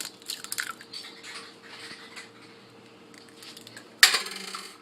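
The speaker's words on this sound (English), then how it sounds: "I'm going to take my bowl and crack a couple eggs in there." Eggs being cracked into a bowl: light clinks and taps of shell against the bowl, then a sharp, bright crack near the end, close up and with no talking.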